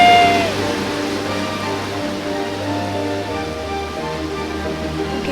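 Waterfall in a bird video game, a steady rushing water wash with a brief tone fading at the start, moderately loud and continuous.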